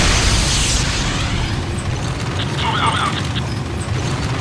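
A structure exploding in the multiplayer game Renegade, a loud sustained blast rumbling through most of the moment alongside other game effects.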